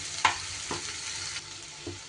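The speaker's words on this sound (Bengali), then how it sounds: "এইবার ম্যাশ করে রাখা কাঁকরোলটা দিয়ে দিলাম" Mashed spiny gourd hits hot oil with dry-fried coconut and mustard, giving a soft steady sizzle, with a light stir-and-scrape knock at the start and a couple of fainter taps after.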